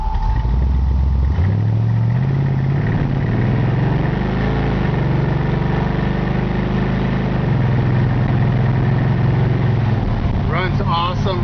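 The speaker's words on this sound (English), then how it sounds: "It's had a 455 rocket put in from a 72. Fires right up." A 1950 Oldsmobile 88 fitted with a 1972 455 Rocket V8 idles steadily and loudly from close by, freshly started and still cold, with a deep rumble throughout.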